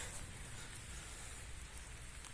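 Steady light rain patters in a garden, a soft continuous hiss of drops with no voices.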